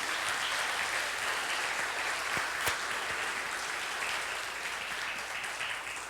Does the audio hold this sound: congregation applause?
yes